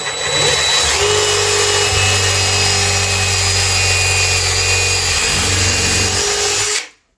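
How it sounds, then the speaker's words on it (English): Loud, close power drill whirring steadily for several seconds as it bores a hole through a wooden drawer, then stopping abruptly. "We're gonna drill the hole now."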